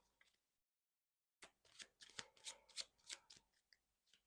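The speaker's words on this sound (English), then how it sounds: "Grab your entire discard deck," A deck of cards for the card game ArchPiratus being shuffled by hand, a series of crisp riffling bursts close by after a quiet start, with no talking.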